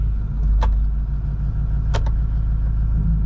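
A Ford Super Duty Powerstroke diesel pickup rumbles steadily in gear with its transmission engaged, the low engine drone constant and close, with two short sharp clicks or taps breaking through.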